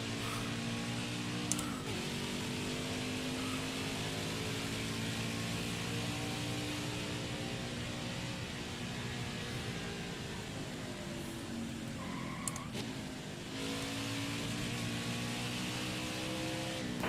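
A race car in NASCAR Heat 5 laps Watkins Glen, its engine a sustained, even drone whose pitch dips and climbs as it lifts and accelerates through the corners, with no talking over it.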